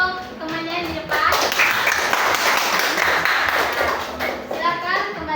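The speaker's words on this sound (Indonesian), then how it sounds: "Tepuk tangan dulu untuk temannya yang di depan." Schoolchildren in a classroom applaud their classmates at the front, a burst of close clapping that swells and then fades, with children's and a teacher's voices talking over it.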